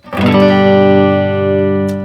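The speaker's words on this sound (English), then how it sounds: "Using a little Boss Katana amp set up with nothing major on, a little bit of reverb, just a nice clean sound" A clean electric guitar plays through a small Boss Katana amp with light reverb: a single chord rings out loud and close, sustaining evenly and fading only slightly.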